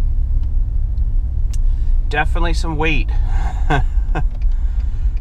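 Heavy tractor engine rumbling in a deep, steady low drone throughout, close and loud, with someone speaking briefly over it midway.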